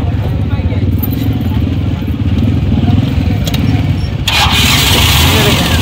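A Suzuki Ravi pickup engine cranks and runs at a used car bazaar, a steady loud rumbling clatter throughout with a brief rise near the end, with people talking nearby.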